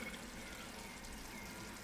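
Bean cooking broth poured into a simmering pot of homemade beef stew with beans and vegetables, a steady close liquid stream running for about two seconds, quiet and unbroken.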